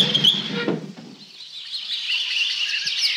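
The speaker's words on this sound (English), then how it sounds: "Did you ever hear such a bubbling rabble of birds?" A lively chorus of birds chirping and tweeting outside an open window, several overlapping high calls continuing throughout, with a brief rustle of movement early on and no talking.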